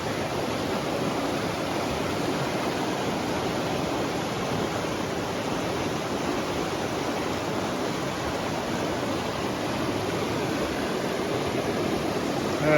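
A small patch of white water rushes by a little pool at Kennedy Meadows, a steady, unbroken hiss of flowing stream water that stays even and fairly close throughout, with no voices.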